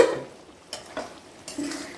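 A spatula stirs jhinge posto, ridge gourd in poppy seed paste, in a pan, making a few short scraping strokes over a soft sizzle. No one speaks.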